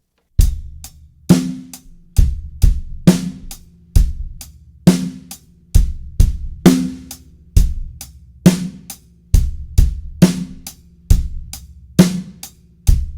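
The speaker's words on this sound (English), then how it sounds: "instead of playing quarter notes on the hi-hat, we're going to play eighth notes." A drum kit plays a steady beginner rock beat with eighth notes on the hi-hat, crisp ticks between punchy kick and snare hits, repeating evenly and close-miked with no voices.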